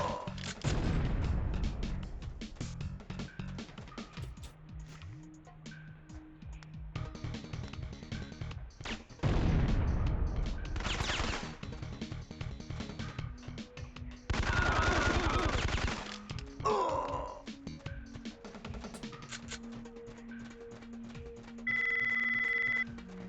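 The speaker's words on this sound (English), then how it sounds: "I'm just gonna spam with the Biz 2 because it has a lot of power in this game and a high fire rate" Bizon submachine gun fired in rapid bursts in Syphon Filter, loud and close, with dense rattling volleys broken by pauses, a few heavier crashes and game effects mixed in.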